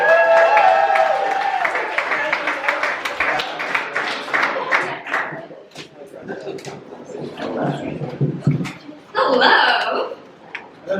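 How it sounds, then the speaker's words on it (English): Applause and cheering from a comedy club audience welcoming a stand-up comedian, loud at first and then thinning into scattered claps, with voices and laughter mixed in and a brief burst of whooping near the end. "give a round of applause to Danielle Reagan"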